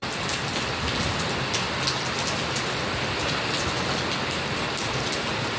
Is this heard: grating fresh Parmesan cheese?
no